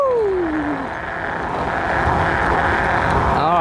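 A Kugoo Kirin G4 electric scooter accelerates at full throttle under a heavy rider. A rising electric motor whine sweeps upward over loud, constant wind rush and road roar, all close to the microphone.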